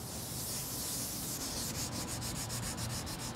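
Steady, continuous sanding of wood, a dry rubbing hiss with a regular back-and-forth stroke rhythm in the second half, close and alone.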